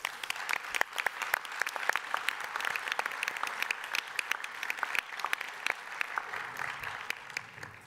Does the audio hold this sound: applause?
yes